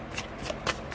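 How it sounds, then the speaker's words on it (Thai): Tarot cards being shuffled by hand for a reading, heard as a few quick, close papery riffling bursts over about a second, with no talking. "มีไพ่ให้เลือก3กองนะคะสับสดๆ"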